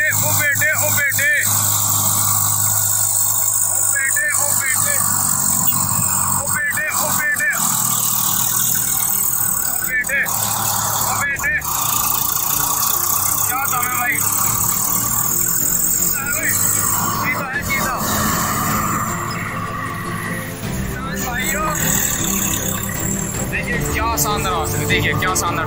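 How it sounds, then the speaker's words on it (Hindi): A tractor engine runs steadily at close range for the whole stretch, with someone talking loudly over the rumble. "देखिए क्या शानदार ट्रैक्टर, क्या आवाज है किसान भाइयों"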